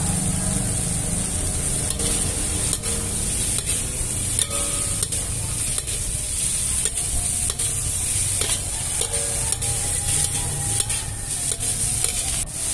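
Cabbage or radish is stirred with tomato and other Minang-style fried noodle ingredients in a sizzling pan, with repeated spatula scrapes and knocks over a steady fry.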